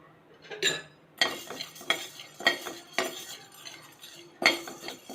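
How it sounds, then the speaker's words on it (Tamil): A utensil scrapes and clinks against a pan while urad dal is dry-roasted and stirred, in repeated irregular strokes about every half second to second, close and fairly clear with a faint sizzle underneath. "இப்போ உளுத்தம் பருப்பு வறுத்துக்கலாம்"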